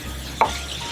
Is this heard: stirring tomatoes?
yes